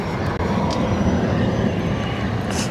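Aer Lingus Airbus A320neo on approach into Barcelona from Dublin, a sustained, fairly loud engine rumble and whine holding steady through a brief moment, no talk.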